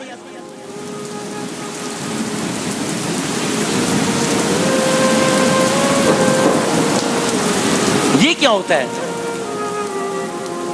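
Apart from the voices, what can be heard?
rain falling with thunder, sound effect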